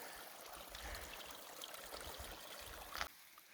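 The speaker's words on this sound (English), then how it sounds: "this water literally flows right out of that rock right there" Clear spring water flows straight out of desert rock in Utah's West Desert, a steady close rushing trickle with no voices over it, ending in a brief louder splash before dropping quieter.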